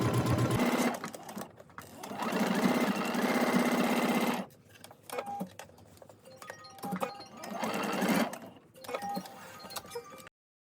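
A sewing machine stitches darts on a jacket, running in two long bursts of steady motor whir with a pause between them and a short stop and restart near the end, loud and close with no talking.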